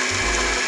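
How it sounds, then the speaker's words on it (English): A cartoon blender whirring through a smoothie in the Minnie's Food Truck mobile game, a single short mechanical buzz with a low motor hum, close and loud over steady background music. "You'll have to push the button on the front of the blender to blend the smoothie."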